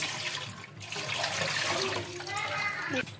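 Water splashes and trickles steadily as it is poured out, with a voice talking faintly in the background.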